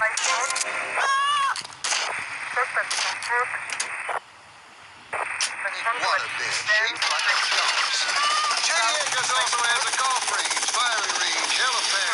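Helicopter and action sounds from the video game GTA Vice City, with loud, choppy game noise and bursts that drop out briefly, then grow busy and continuous.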